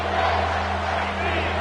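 A football stadium crowd roars steadily behind the defense during a red-zone stand, a dense sustained wash of voices heard from within the stands.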